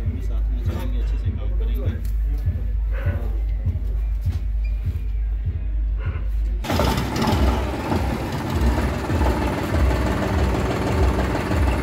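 A John Deere 5405 63HP 4x4 tractor engine runs at a steady idle with a regular low thumping beat, close and loud, and the texture shifts to a denser, rougher roar partway through.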